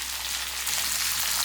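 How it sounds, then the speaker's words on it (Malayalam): Chopped capsicum sautéing in a pan of oil with fried dried red chillies, a steady close sizzle and hiss that holds level throughout with no voices. "ഇനി ഇതിലേക്കാണ് നമ്മൾ മുറിച്ച് വെച്ച് ക്യാപ്സിക്കം ചേർത്ത് കൊടുത്തിട്ട് ഒന്ന് വഴറ്റിയെടുക്കണം"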